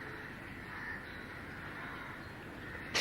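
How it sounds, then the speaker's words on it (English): A crow caws outdoors over a steady broadband background hum, its calls carrying faintly through the three seconds with no one speaking. "that crow?"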